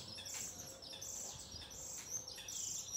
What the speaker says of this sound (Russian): Птички летают.